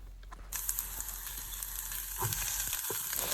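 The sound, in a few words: sautéing beans and vegetables in a pan for oats upma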